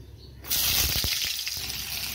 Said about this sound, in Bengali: ওই জন্য আমি আগে পটল ভেজে নিব।